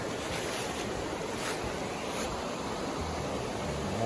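Constant roaring rush of a waterfall beside a fall campsite in the Smokies, a dense, steady wash of water noise with no breaks or voices.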